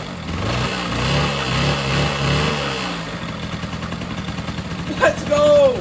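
A freshly swapped Honda Spree scooter engine idles close by with a steady, low, pulsing putter. The engine note then roughens and fades under background noise, and an excited voice breaks in near the end.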